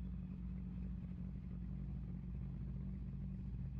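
A 1961 Jaguar E-Type engine held on the brake at a drag race start, a steady low idle-to-rev rumble with fine clatter, constant and moderately quiet throughout.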